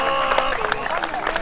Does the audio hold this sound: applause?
yes